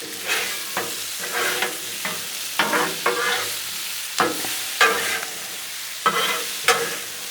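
Vegetables sizzling on a Blackstone griddle with a little oil, a steady fry hiss broken by repeated sharp scrapes and clacks of a spatula stirring them, close and loud.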